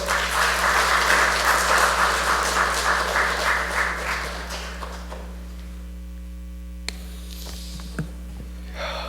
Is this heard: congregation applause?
yes